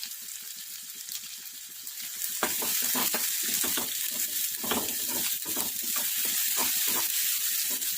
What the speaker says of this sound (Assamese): এতিয়া এই তেলখিনিতে মই পিঁয়াজখিনি ভাজি ল'ম